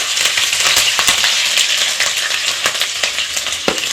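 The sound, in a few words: cumin, cinnamon and green chillies frying in hot oil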